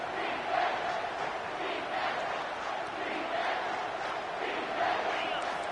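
A stadium crowd in an NCAA 25 football video game roars steadily, a thick, surging wall of cheering voices swelling in waves throughout.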